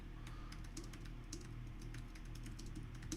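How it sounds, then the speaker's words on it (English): Rapid, continuous typing on a computer keyboard, a dense run of close, crisp key clicks with uneven rhythm and no voices. "I don't know how you're typing."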